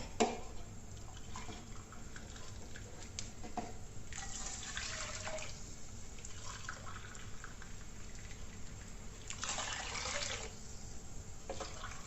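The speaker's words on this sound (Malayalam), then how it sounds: "4 കപ്പ് വെള്ളം ഞാൻ കെറ്റിലിൽ തിളപ്പിച്ചെടുത്തിട്ടുണ്ട്. നമുക്കത് ഒഴിക്കാം." Boiled water from a kettle, about four cups, pours onto rice for fried rice, making a steady liquid splashing and trickling that runs for about twelve seconds at moderate volume with no talking.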